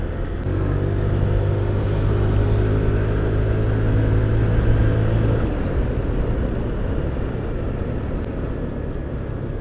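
A Honda Click 125i V3 scooter with a 125cc engine rides along with a steady, loud low engine drone and road rumble that eases slightly partway through, with no talking.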